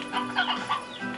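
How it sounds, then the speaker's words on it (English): Chickens in the Slime Rancher video game give a few quick, close clucks and squawks in short bursts. "Chickens! Go in there, chickens!"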